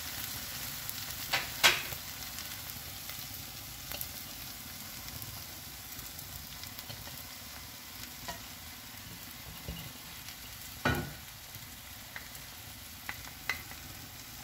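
Egg and chopped parotta frying together on a hot pan for kottu parotta, a steady close sizzle with occasional sharp clinks and scrapes of a spatula, no voices.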